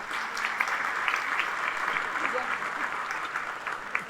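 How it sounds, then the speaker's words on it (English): A seated audience applauds the platinum sponsors at Mayor Gina Ortiz Jones's State of the City address, a steady, even wash of clapping at moderate distance that continues for several seconds without a break. "Can we have a round of applause for our platinum sponsors?"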